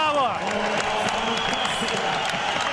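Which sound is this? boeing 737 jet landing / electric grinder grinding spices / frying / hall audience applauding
hall audience applauding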